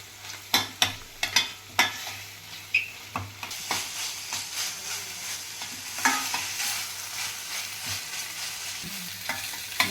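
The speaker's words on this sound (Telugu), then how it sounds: "మసాలా వేగుతుంది దానిలో అరకిలో చికెన్కి ఈ స్పూన్తో రెండు స్పూన్లు జింజర్ గార్లిక్ పేస్ట్ వేసుకొని బాగా కలుపుకోవాలి" Masala with ginger garlic paste frying in a pan for Chettinad chicken, a spoon stirring and scraping in repeated sharp clinks over a steady close sizzle, with no talk.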